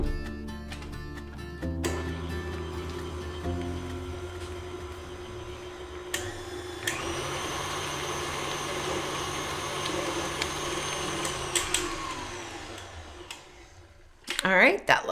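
Electric hand mixer whirring through peanut butter blondie batter in a home kitchen, a steady loud motor hum that shifts pitch as it runs, with a clatter near the end.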